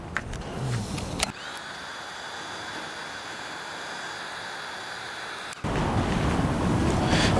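A heat gun blows steadily while warming chrome delete vinyl wrap on a 2023-2025 Honda CR-V, a continuous airy whoosh with a faint high whine and a short break in the middle, without any talking.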